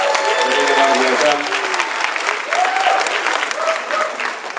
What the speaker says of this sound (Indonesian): Tepuk tangan untuk Pak Sam Shirley